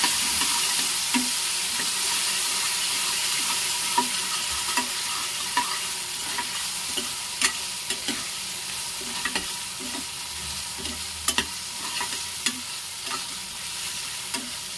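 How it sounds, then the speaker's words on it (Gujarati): Tomatoes and roasted peanuts frying in oil for poha batata, with steady sizzle and regular scraping stir strokes of a spoon against the pan, close and continuous without any talking. "થોડી વાર આપણે ટમેટાને તેલમાં ચડવા દેવાના છે।"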